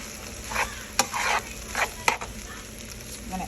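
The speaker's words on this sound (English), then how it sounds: "Mash it out, make sure you get the clumps out." Food being mashed and stirred in a hot hibachi pan to break up clumps makes close, loud sizzling in bursts, with sharp spatula clicks against the metal.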